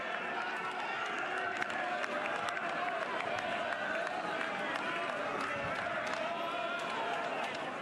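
A baseball stadium crowd at a Mississippi State versus Oklahoma college game keeps up a steady roar of cheers and scattered clapping, distant and continuous, with commentators talking over it.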